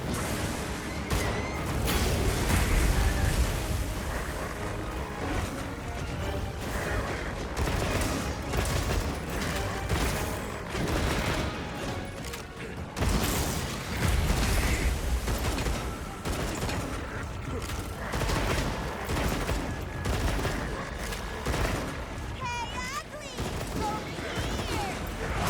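Bowgun fire in Monster Hunter Wilds, heard as dense, repeated booming and mechanical shots that run through a loud battle mix, with a voice talking over the action.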